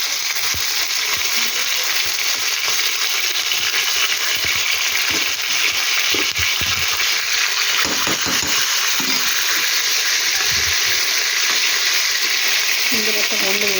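Ginger paste sizzling and frying steadily in hot oil for a lentil dal, a continuous loud hiss with faint clinks of stirring near the end.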